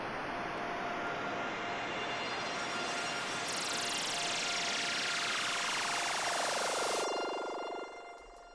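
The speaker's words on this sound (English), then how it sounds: "I said I like tremolo, and this is moving from left to right." A music track layer with quarter-note synced tremolo panning and reverb, a dense noisy wash joined midway by a descending sweep, sustained and even before fading at the end.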